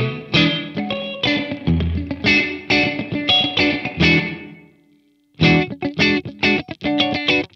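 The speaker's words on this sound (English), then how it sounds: "gives you a nice little slapback sort of sound" An electric guitar through an MXR reverb pedal set for slapback pre-delay plays choppy plucked chords and notes with a short echo, pausing for a moment before resuming.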